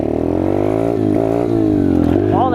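A Peace Moto Chinese dirt bike engine hums steadily at a fairly high idle, close and loud, its pitch wavering slightly before a quick rev climbs at the end.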